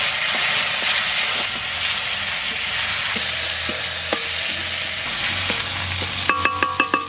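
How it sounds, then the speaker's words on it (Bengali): Dried red chillies and ground cumin paste fry in hot oil with a steady sizzling hiss, broken by a few stirring knocks and, near the end, a quick run of metallic scrapes from a spatula against the pan. "শুকনো লঙ্কা তেলে দিলাম। জিরে, এটা জিরে বাটা, একটু তেলে নেড়ে দেবো।"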